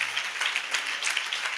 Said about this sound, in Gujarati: અરે જોરદાર તાળી પાડીએ